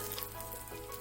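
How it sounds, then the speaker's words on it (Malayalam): Mustard seeds splutter in hot oil along with curry leaves and a dried red chili, making a brief, constant close-up sizzle with fine crackling. "അതിലേക്ക് കടുകിട്ട് കൊടുക്കാം. കടുക് പൊട്ടി തുടങ്ങുമ്പോഴേക്ക് കറിവേപ്പിലയും അതുപോലെ ഒരു വറ്റൽമുളകും ചേർത്തിട്ടുണ്ട്"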